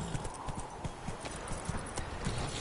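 Horse hooves clip-clopping steadily at a trot in The Witcher 3 on PS4, a fairly quiet, continuous rhythmic patter over faint background ambience.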